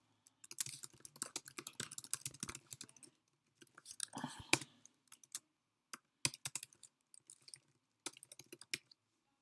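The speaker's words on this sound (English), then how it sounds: "Then you can type in your own phrases." Keys tapped on a computer keyboard while typing a phrase into a communication aid, clicking in quick irregular bursts with short pauses between, close and fairly quiet, no talking.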